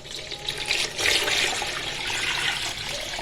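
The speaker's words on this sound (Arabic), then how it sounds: "وباقي الطماطم هضيف عليها لترين ميه سخنه اهي" Two liters of hot water pour onto tomatoes in a home kitchen, a steady rushing, splashing stream that swells and holds close and loud for a few seconds.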